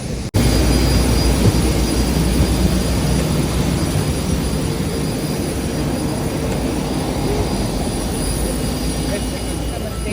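A steady, loud jet-engine roar fills the cabin of an Air India airliner. It is an unbroken broadband drone that continues for the whole stretch, with no clear voices above it.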